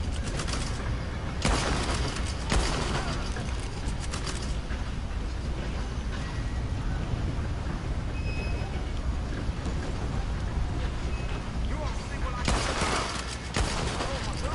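Gunfire in the video game Red Dead Online on PlayStation 4: repeated bursts of shots, with a few louder volleys standing out over a steady bed of game ambience.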